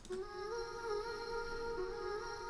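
A single sustained synth tone holds steady and clean, with a slight pitch wobble partway through and no added reverb or effects.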